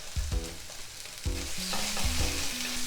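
Chili bean sauce fries in a pan for mapo tofu, with a few spoon taps and scrapes against the pan over a building, close sizzle.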